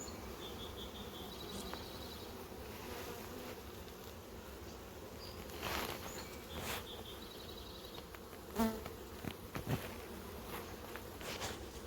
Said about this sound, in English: there's a bee outside, bottom, just crawling around the bottom